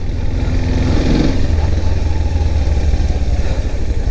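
A large-displacement motorcycle engine revs steadily and loudly up close, with a continuous throaty drone and some mechanical clatter and no talk.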